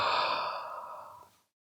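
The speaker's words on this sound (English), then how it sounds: "He let out a great big yawn." A single long, breathy exhale that slowly fades over about a second and a half, then silence.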